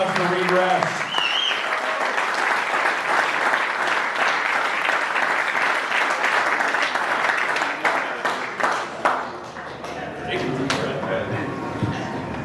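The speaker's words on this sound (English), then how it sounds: "round of applause for Reed Rash." A round of applause at a golf fundraiser presentation, a sustained dense clapping from a crowd with some cheering, tapering off toward the end as a voice comes back in.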